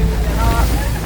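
A ferry crossing to Cozumel rocks on a rough sea, with a loud, continuous roar of wind and crashing, splashing waves and no clear break.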